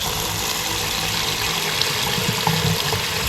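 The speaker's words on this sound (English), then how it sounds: "Takes quite a bit of water to fill the trap, so we'll let that run for a little bit" Water runs steadily from a faucet into a sink basket strainer to fill the drain trap below, a continuous close splashing and trickling with no talk.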